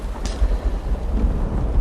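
Heavy rain and rumbling thunder in the video game Uru: Ages Beyond Myst, a dense, loud, steady wash of downpour with low rolling rumble throughout, no voices.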